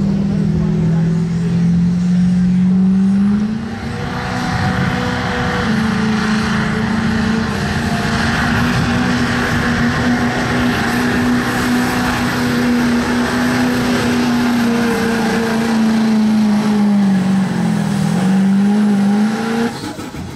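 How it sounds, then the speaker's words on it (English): Two-wheel drive diesel trucks run at a truck pull exhibition at the Putnam County Fair, their engines in a loud sustained roar that holds steady with slight pitch dips throughout. "We'll go right into our two-wheel drive exhibition. We have four two-wheel drive trucks to run for you."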